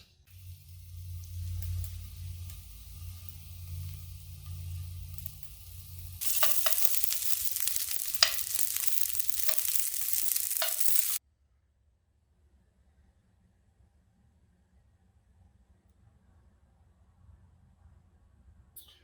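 Maple breakfast sausage links made from pork or venison fry in a pan, first as a low bubbling sizzle, then as a bright, loud hiss with crackles for several seconds before it stops abruptly.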